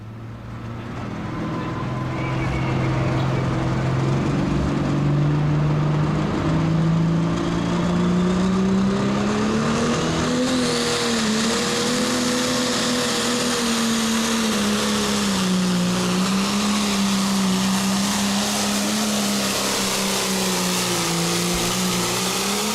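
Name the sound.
John Deere 6030 pulling tractor engine roaring during a tractor pull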